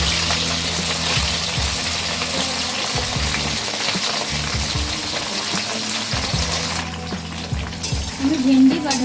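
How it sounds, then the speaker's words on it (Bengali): Okra frying in hot white oil in a wok gives a loud, steady sizzle with intermittent stirring and scraping, close up and without talk, thinning out toward the end. "আমি ভেন্ডি বা ঢেঁড়সগুলো জোর আছে একটু ভেজে নেব।"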